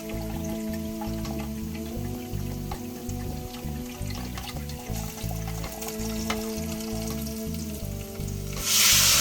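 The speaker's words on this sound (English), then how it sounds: "I'm gonna add some vodka. So I'm gonna pour out probably about half a cup of this." Vodka hits a hot pan and sizzles continuously for penne alla vodka with jerk lobster, a steady frying crackle with a low hum underneath, rising at the very end.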